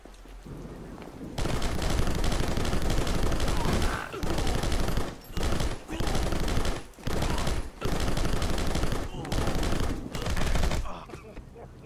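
Enemy gunfire in the Rocketbirds: Hardboiled Chicken video game, dense automatic bursts that go on for long stretches, broken by short pauses, loud and close throughout.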